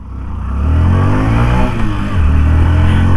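A Hero Passion Xtec 113cc motorcycle engine revs loudly and close by, with the pitch climbing and then holding as the throttle opens, and no talking.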